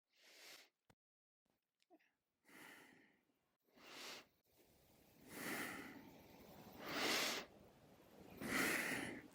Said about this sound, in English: the Ujjayi breath